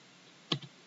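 A single click of the Enter key on a computer keyboard, one short, close tap with a faint follow-up click in an otherwise quiet room.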